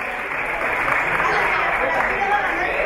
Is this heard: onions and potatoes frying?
no